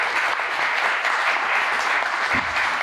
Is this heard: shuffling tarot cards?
no